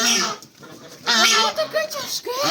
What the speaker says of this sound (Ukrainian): то гуска